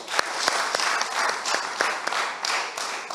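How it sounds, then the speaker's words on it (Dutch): Applause from an audience welcoming a group of trained young men at a program launch, a steady crowd of clapping hands with a few sharper individual claps standing out. "Geef voor jullie jezelf een applaus."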